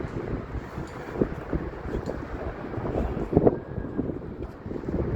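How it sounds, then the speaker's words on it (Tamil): Strong, cold wind buffets the microphone on a bridge over a river, a continuous rough roar with gusty swells and no clear pauses. "ஆனாலுமே வந்து காற்று பயங்கரமான காற்று."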